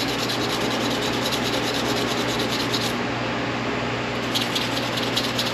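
Polishing the rotor arm from an engine's distributor gives a continuous soft scraping rub, close and fairly faint, steady throughout with slight variations and no talking.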